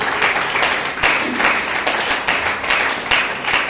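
A church congregation applauds, dense rhythmic clapping that pulses in waves, close and loud throughout with a few voices mixed in.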